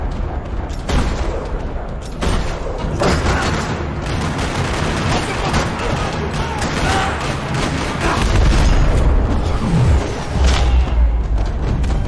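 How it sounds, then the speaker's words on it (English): Video game Max Payne 3 firefight in a parking lot: loud, sustained bursts of automatic gunfire and single shots crackle and echo, with heavy booms and thuds building toward the end. "Another parking lot rattling with gunfire."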